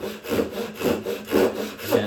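Hand saw cutting a wooden bridle joint, close and loud, with rhythmic back-and-forth rasping strokes, about four per two seconds, and no talking.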